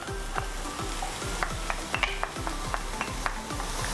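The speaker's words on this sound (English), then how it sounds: "we should be frying these ingredients at a medium heat" Mushrooms and other fried rice ingredients frying in a pan over medium heat, a steady close sizzle with a regular rhythm of stirring and scraping strokes.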